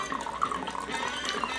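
Water running or being poured, a steady faint splashing flow with small bubbling pops throughout.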